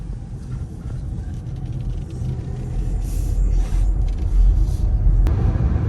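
A Ford Mustang Mach-E electric car on a highway, heard from inside as a heavy low road rumble with tyre and wind noise that swells louder partway through.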